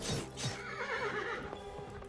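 A horse neighs in the Construct 2 indie game Path to Valhalla, a clear whinny rising and wavering for about a second amid soft hoof-like clops, alone without talk.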